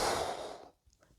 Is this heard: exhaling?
yes